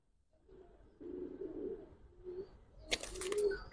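A male khaki Giribaz pigeon kept at home gives soft, low coos in short bursts, near but quiet, followed by a brief burst of wing flapping or rustling near the end.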